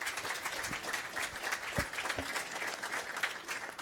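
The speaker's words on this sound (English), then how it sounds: "I'd like to ask you to give one more round of applause to our fabulous panel here." A conference audience at a COP-20 climate panel session gives a round of applause, dense steady clapping from a roomful of people lasting the whole moment.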